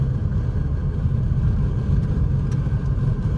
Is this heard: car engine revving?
yes